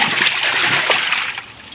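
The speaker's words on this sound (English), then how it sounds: "then water will drain" Water splashes and sloshes steadily out of a washing machine as it drains, a continuous close, fairly loud gush that eases slightly toward the end.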